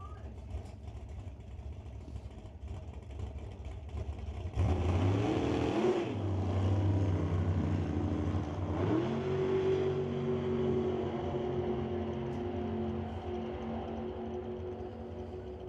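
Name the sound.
drag racing cars, 1957 Corvette and 1992 Firebird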